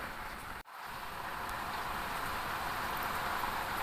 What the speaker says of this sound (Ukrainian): Дуже-дуже дощик, гарний такий дощик.